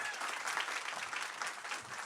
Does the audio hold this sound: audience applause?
yes